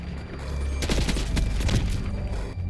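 Rapid bursts of gunfire in a Black Ops 6 match, loud and close, with several quick shots clustered in the middle before trailing off.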